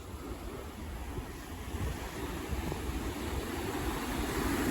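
Ocean waves washing onto a beach, a soft continuous surf wash that slowly swells louder, with faint wind noise and no talking.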